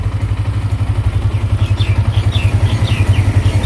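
Yamaha R15 V3 motorcycle engine idling up close, a steady fast low putter with even pulsing, plus faint repeated electronic chirps partway through.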